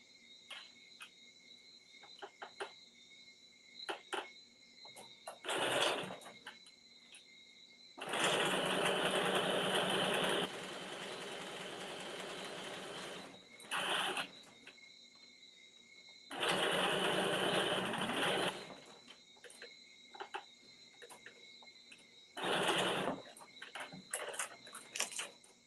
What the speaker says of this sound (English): it's pinned into place, and I'm just going to stitch it down